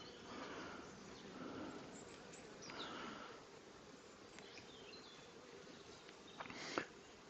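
Steady, soft buzzing of many bees close by at an open hive, with occasional louder passes from individual insects near the end.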